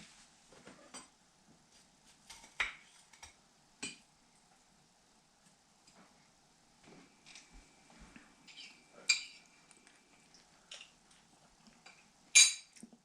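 Utensils clink and scrape against dishes while blackberry cobbler is served, a sparse run of faint taps and a few sharper knocks over near silence.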